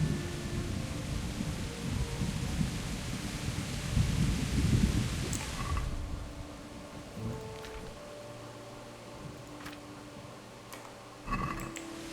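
Rain and rolling thunder in the medieval video game Kingdom Come Deliverance: a dense rumbling wash for the first several seconds that fades to a steadier, quieter patter, with a brief louder burst near the end.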